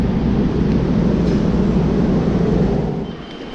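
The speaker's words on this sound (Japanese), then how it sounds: "満員電車に乗って" A crowded subway train in Seoul runs toward Dongdaemun station, giving a steady, loud low rumble and rolling roar that eases slightly near the end, with no voices.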